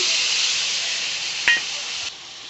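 A mixed spice paste with a little sugar sizzles in a pan for a vegetarian jackfruit kofta curry. There is a steady bright hiss with a brief clink of stirring midway, and no voices.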